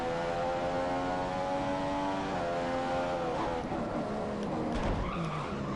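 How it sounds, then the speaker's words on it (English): Locked rear tyres skid on an F1 car in the F1 2015 video game, a scraping screech rising over the steady whine of the engine near the end, close and loud with no talking. "locking your rear tyres"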